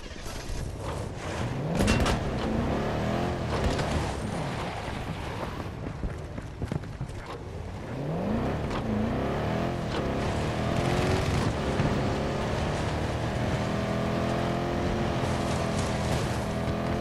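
In the game Battlefield 2042, a requested vehicle arrives with a continuous engine roar that rises and falls in pitch, sweeping past with wind and rumbling noise and no talk.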